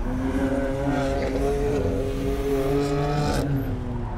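A car engine, a Skoda Fabia 1.0 TSI or a BMW M4 GTS, holds a steady drone and rises slightly in pitch, loud and close, with no voices over it.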